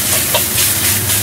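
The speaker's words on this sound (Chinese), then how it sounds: "煎咗大概三十秒之后，反转佢。 又系唔好喐佢，再煎三十秒。" Minced pork fries in a hot pan with a constant, dense sizzle that fills the whole clip, close and loud with no pauses and no talking.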